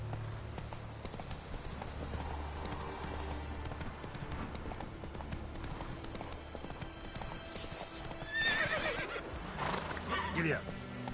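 A horse gallops in the video game The Witcher 3: Wild Hunt, with steady clip-clopping hoofbeats throughout and a whinny near the end, all under game ambience.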